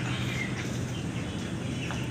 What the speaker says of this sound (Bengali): আমাদের মুরগিগুলো মার্শাল্লাহ